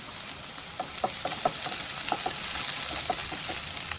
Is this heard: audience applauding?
no